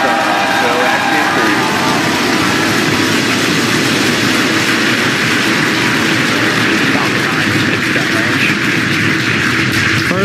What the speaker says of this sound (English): Ignition, engine full power, and liftoff.